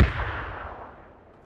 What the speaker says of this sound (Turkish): Bomba bizden miydi?